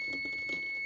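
A kitchen timer beeps a few times while potatoes boil for potato salad, with short, soft, evenly spaced tones over a steady high whine at close range.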